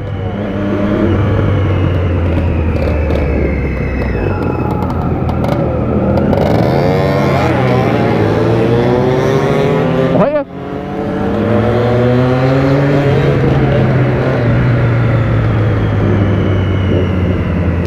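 Motorcycles, including a DT200R, a moped and an XTZ125, ride past on a street, engines loud and revving as they rise and sweep by, one passing close with a sharp Doppler drop, followed by more engine drone.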